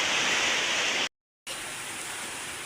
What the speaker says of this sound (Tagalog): tubig ng ulan, pumasok na sa bahay namin